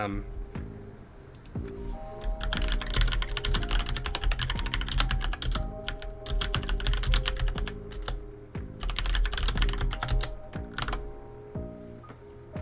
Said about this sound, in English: I was typing